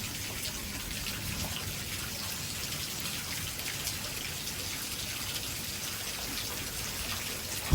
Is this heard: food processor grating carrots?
no